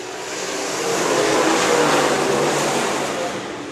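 Late model race cars roaring through turns 1 and 2 at Shelby County Speedway during a heat race, a loud, sustained engine drone that swells and fades slightly as the pack passes.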